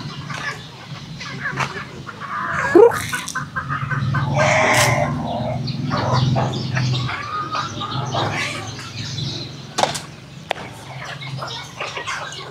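Native chickens cluck and call in a pen, a mix of short clucks and rooster-like cries with bird chatter at close range, over a steady low background hum, with no clear talking.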